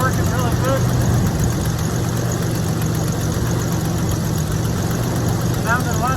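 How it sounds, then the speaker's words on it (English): An engine idles after maintenance with a steady, loud low rumble that holds even throughout, while a voice talks over it. "already a stronger, steady idle"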